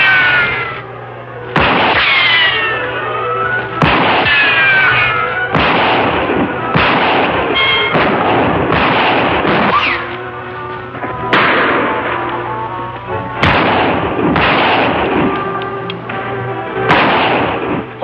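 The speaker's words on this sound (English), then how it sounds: "Shots aren't coming from the same direction." Gunfire in a Lone Ranger western radio drama: about eight sharp, loud shots at irregular intervals, several followed by whining ricochets, with no talk over them.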